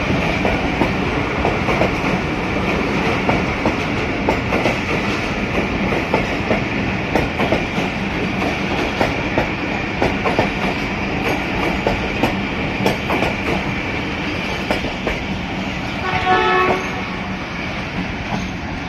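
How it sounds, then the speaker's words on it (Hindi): Lasani Express passenger train on the Lahore–Sialkot line rumbles steadily past at close range with rolling wheel noise throughout, and a short horn sounds near the end. "ये थी लाहौर और सियालकोट के दरमियान चलने वाली 125 अब लसानी एक्सप्रेस।"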